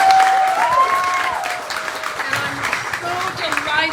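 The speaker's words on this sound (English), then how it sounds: "Give her a huge round of applause." Applause and crowd noise at a political campaign kickoff event, clapping under cheers and raised voices from many people, loud at the start and then mixing with whoops and chatter.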